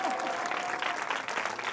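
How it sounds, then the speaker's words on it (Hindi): A church congregation at a Christian gathering in Langarkot, Gurdaspur, clapping loudly and steadily in a dense, continuous wash of applause, with faint voices mixed underneath. "ये विश्वास करने वाले लोग प्रभु परमेश्वर को उपस्थिति को आदर करते हुए जोर से ताली बजा करके यीशु का महिमा करें।"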